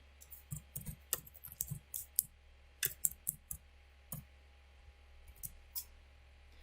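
Keystrokes on a computer keyboard while code is typed: quiet, irregular bursts of clicking taps with short pauses between them, over a steady low electrical hum.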